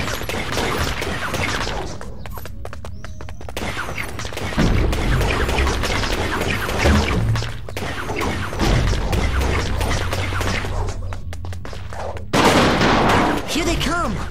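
Repeated launching bursts from a baseball launcher in the Phineas and Ferb Wii game, a busy stream of thumping shots and crashes under game music and voices.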